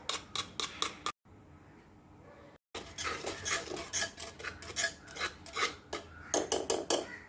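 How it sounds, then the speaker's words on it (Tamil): Curd being beaten in a metal vessel for Kerala-style mango pulissery, giving rapid scraping, clinking strokes in quick bursts, close and fairly loud, with a short pause partway through. "இப்போ பாத்திரத்தில் தயிர் எடுத்து அதை நல்லா அடித்து வச்சுக்கோங்க."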